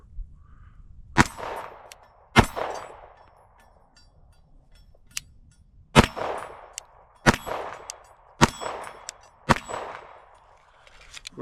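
A Glock pistol fires about seven sharp, irregularly spaced shots, each a loud crack followed by a ringing, metallic decay, with quiet gaps between.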